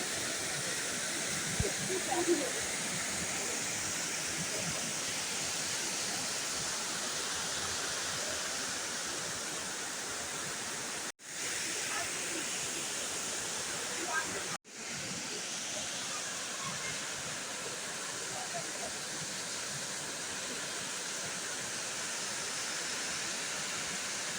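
Elephant Falls in Meghalaya pours in a steady broad hiss of falling water, constant and moderately distant, with two brief dropouts midway and no clear speech.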